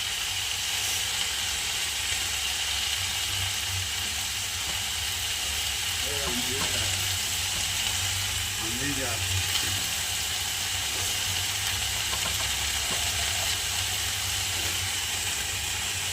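Pomfret fish frying in hot oil in a pan, giving a steady, loud broadband hiss that runs unbroken throughout, with faint voice traces briefly beneath it.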